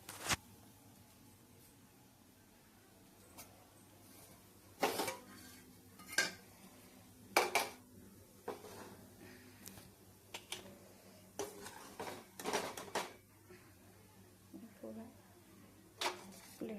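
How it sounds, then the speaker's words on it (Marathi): A spoon scrapes and clinks against a pan while cooked poha is served onto a plate, with a gas stove already switched off; sharp metallic taps and scrapes come in irregular bursts at close range over a quiet background. "आता मी हे प्लेटात काढून घेते"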